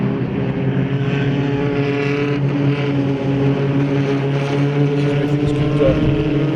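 Formula Vee race cars on a circuit, a steady droning engine note with strong harmonic hum that stays loud and constant throughout, as if heard from onboard, with no talk.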